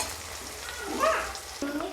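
Bay leaf, onion and green chili sizzle in hot oil in a wok, cooked country style, a steady close frying hiss with a brief stir-and-scrape partway through.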